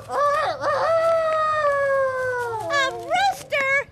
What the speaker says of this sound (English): A rooster? Well, that should wake you and everyone else up.